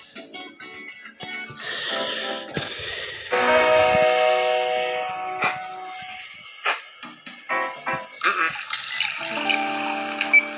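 Shower water in a cooking and home video game runs in a steady hiss with faint drips and small clatters, alone with no talk.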